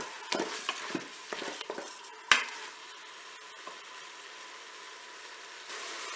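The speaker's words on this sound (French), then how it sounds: "Je vais mettre maintenant mon filet mignon, je vais faire revenir aussi." Filet mignon dropped into a hot Cookeo multicooker pot, a sharp clack followed by a low, steady sizzle and a few scraping stirs, fairly quiet with no voices.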